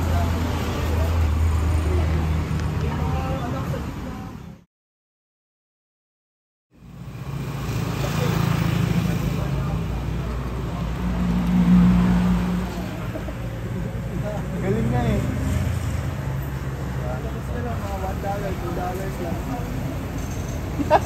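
Steady roadside traffic runs alongside a highway at a small lugaw eatery, a continuous low rumble of passing cars and buses with murmuring voices mixed in, broken by a brief dead gap before the road noise returns.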